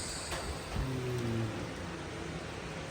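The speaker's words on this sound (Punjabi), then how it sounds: "ਪਰ ਮੀਂਹ ਬੜਾ ਪੈਂਦਾ ਪਿਆ ਕਿਵੇਂ ਜਾਈਏ" Steady broadband hiss of rain falling, with a faint low tonal hum passing briefly near the start.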